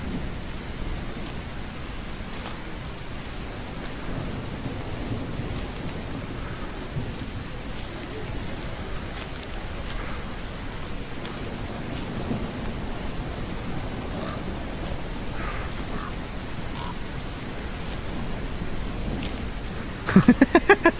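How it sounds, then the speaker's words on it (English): Thunderstorm in a video game trailer, steady heavy rain hiss with low rolling thunder rumbling underneath throughout, continuous and even, with a few sharp clicks at the very end. "Storm."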